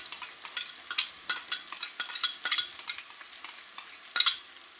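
A vegetable rice dish with carrots, corn, green beans, sweet peppers and red onion fries in a pan, giving close crackling sizzles and irregular scraping stirs of a utensil against the pan.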